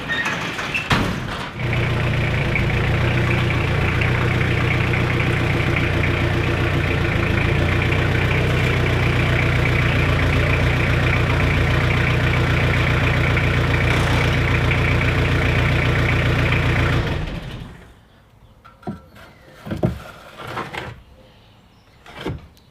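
A Jeep XJ engine idles steadily and close by for about fifteen seconds, then shuts off, leaving a few scattered clunks and knocks in a quiet garage.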